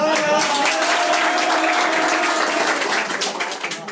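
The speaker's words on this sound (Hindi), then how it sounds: "तालियां बजाओ" An audience at a talk on student fees claps steadily for a few seconds, a dense, fairly loud wash of applause that thins out toward the end.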